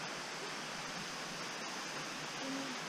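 A waterfall on a mountain outing gives off a steady, even rush of falling water. It stays constant and fairly soft from start to end, with no voices over it.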